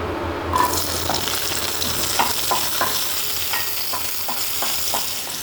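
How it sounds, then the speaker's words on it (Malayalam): About fifteen sliced small shallots sauté in hot coconut oil in a pan for a bitter gourd theeyal, a loud continuous sizzle broken by a steady run of spoon-stirring scrapes and taps. "ഒരു പാൻ ചൂടാക്കി അതിലേക്ക് കുറച്ച് വെളിച്ചെണ്ണ ചേർക്കാം ഒരു പതിനഞ്ച് ചെറിയ ഉള്ളി നീളത്തിലരിഞ്ഞതാണ് അതുകൂടി നമുക്കിതിനകത്ത് ചേർത്ത് വഴറ്റിയെടുക്കാം"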